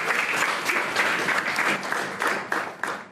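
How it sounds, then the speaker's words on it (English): Children in a classroom in India clap together, a dense, steady burst of applause that carries on for about three seconds with no break. "Give each other a clap, please."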